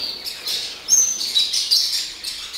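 A pet bird gives a run of loud, high chirps and squawks close by while dancing aggressively, with no talking over it.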